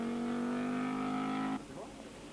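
An Audi 80 Quattro rally car at a 1987 winter rally in Norway roars past with a steady, loud engine note that cuts off abruptly, leaving quieter fading noise behind.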